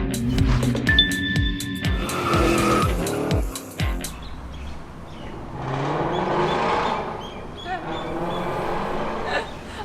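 An Aston Martin SUV, the brand's first, approaches outdoors. Its engine and tire noise swell into a loud broadband rush after some early clicks and clatter, with brief talk nearby.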